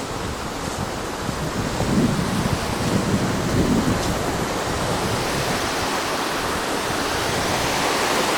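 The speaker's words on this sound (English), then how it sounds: "The bridge is literally on top of an actual waterfall." A waterfall roars steadily nearby beneath a railway bridge, a dense, continuous rush of falling water with no pauses.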